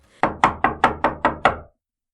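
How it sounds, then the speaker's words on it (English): Seven evenly spaced knocks on a door, sharp and close, in a quick steady rhythm with nothing else heard. "there was a knock at the door."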